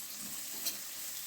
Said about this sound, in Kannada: ಇದನ್ನೀಗ ಸ್ವಲ್ಪ ಹೊತ್ತು ಒಗ್ಗರಣೆಯಲ್ಲಿ ಬಾಡಿಸಿಕೊಳ್ತಾ ಇದ್ದೇನೆ